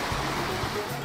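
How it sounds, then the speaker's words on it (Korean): Water flowing between rocks in a mountain stream in a Jirisan valley, a steady close rushing hiss lasting about a second. "바위 사이로 흐르는 물소리가 맑게 들립니다"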